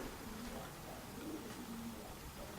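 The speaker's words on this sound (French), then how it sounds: "À noter, il y a des pigeons qui font du bruit." Pigeons coo softly in a low, repeated murmur inside a manor with a very high ceiling, faint and slightly distant over a steady background hiss.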